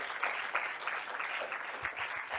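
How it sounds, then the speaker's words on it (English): Steady applause from a panel discussion audience, a dense wash of many hands clapping at once, continuous and fairly even throughout. "let's give a great round of applause to all of our fantastic panelists"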